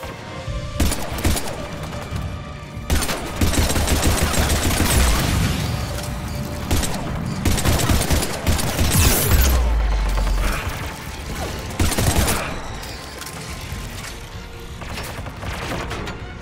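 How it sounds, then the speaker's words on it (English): Sustained bursts of gunfire and mechanical clatter from the video game Mass Effect 3 fill the mix, with loud volleys continuing over a dense battle background and no voices. "Guns going."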